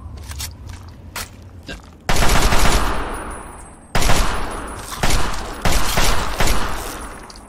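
Minigun fired in Fallout 3, roaring in several loud sustained bursts separated by short pauses, close and dominant, with fainter scattered shots before the first long burst.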